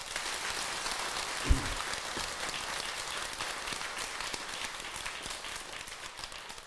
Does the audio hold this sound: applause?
yes